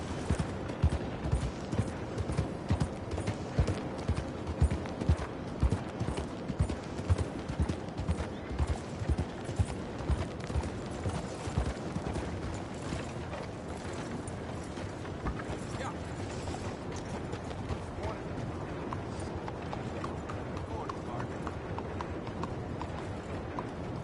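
Horse hooves clip-clop in the Western video game Red Dead Redemption 2. The trotting rhythm is close and distinct at first, then settles into a softer, steady patter, with brief voices underneath.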